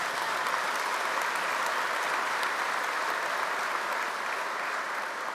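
Steady, dense applause from the audience at a GMB union congress, sustained and fairly loud throughout with no break.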